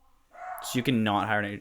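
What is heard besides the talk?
dog barking in another room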